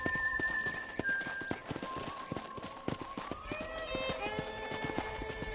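Hooves clip-clop steadily as a horse is ridden across a ranch in Red Dead Redemption. The quick, rhythmic hoofbeats sound close, and low speech and game ambience run underneath.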